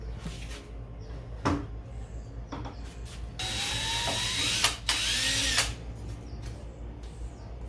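Power tool cutting metal eye bolts to length for a DIY cornhole scoreboard, a few short bursts of whirring and grinding close by, with clunks and knocks between them.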